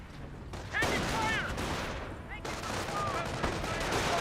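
Grenadiers fire away in the World War II strategy game Company of Heroes, rapid rifle and machine-gun bursts rattling in dense volleys with whistling ricochets, while a commentator talks over the battle.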